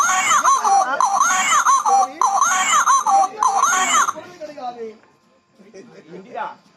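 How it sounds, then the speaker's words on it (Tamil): A baby's loud, repeated wailing cries, used as a stage drama effect in a mythological play, come in several rhythmic bursts, then break off into quieter whimpers and sobs. "ஏதோ குழந்தை சத்தம் எனக்கும் கேட்டது"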